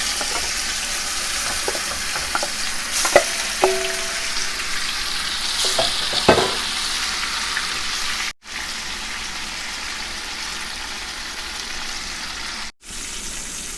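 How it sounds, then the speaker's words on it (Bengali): Fish frying in hot oil after being rubbed with salt, for a fish curry with onions; a steady, loud sizzle runs throughout, with a few sharp pops and spatters near the start and no talking. "মাছটা ভেজে নেব।"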